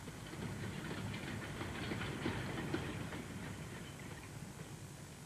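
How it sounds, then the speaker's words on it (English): A little commuter train running between Richmond and Broad Street rattles along steadily with a faint clickety-clack and a continuous low rumble, unbroken and without voices. "that little train, which rattles along between Richmond and Broad Street"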